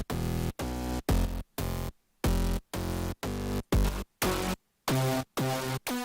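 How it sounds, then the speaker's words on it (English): A heavy saw-wave synth bass plays short, loud, buzzing chords in a choppy stop-start rhythm, about a dozen punchy stabs separated by brief silences. "This is the intro bass. This is the, like, main heavy sound. It's just a saw wave"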